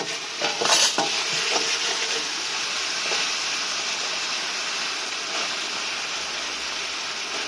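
Onion flower stalks stir-fried in a pan give a steady hiss of sizzling, with a few scrapes of the utensil early on and no talk.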